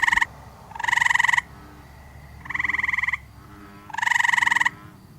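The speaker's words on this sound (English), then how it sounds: "but they also have an alternate chirping call" Tree frogs call from a pond in three loud, bright bursts of rapid trilling, each lasting about half a second to a second with short quiet gaps between them, and no voices are heard.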